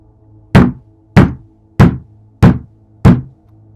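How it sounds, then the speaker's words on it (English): Five firm knocks on a wooden door, evenly spaced about a second apart, close and loud with quiet between them. "Suddenly, I heard a knocking at my front door."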